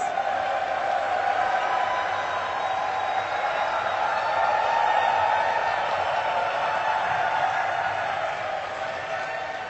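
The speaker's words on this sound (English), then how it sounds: "let's get you guys cheering once again so everybody start making some noise" Large arena crowd at the Dota 2 International 2015 making noise together, a broad sustained roar of cheering and whoops that swells slightly midway and eases toward the end.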